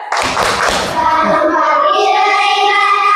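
Children in an Indonesian classroom perform a rhythmic clapping chant, loud close hand claps in a quick pattern that give way to voices chanting together in unison.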